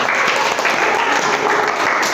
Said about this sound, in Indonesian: tepuk tangan untuk yang jawab semuanya